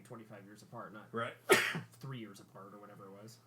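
A single loud, sharp sneeze bursts out in the middle of a casual two-man conversation about games, with talk continuing right before and after it.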